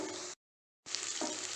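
Cauliflower pieces go into frying masala in a pan, giving a continuous bright sizzle that cuts out briefly and then resumes.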